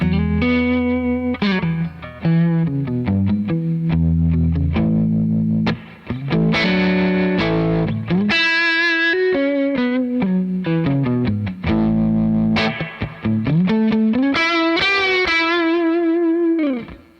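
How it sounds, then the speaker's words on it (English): A Fender Jazzmaster played through an Analog Outfitters Sarge amplifier with an Alnico Cream speaker, distorted, sustained chords and bending lead notes, loud and close with no talking. "I'm playing my Jazzmaster through my analog outfitter Sarge"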